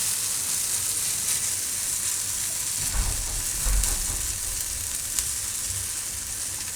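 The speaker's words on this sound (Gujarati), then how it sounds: "આમાં હવે ચમચો ભરીને આપણે ખીરું નાખીશું." Moong dal batter for uttapam spreads on a hot pan with a steady, close sizzle and hiss, broken by a few soft scraping bumps.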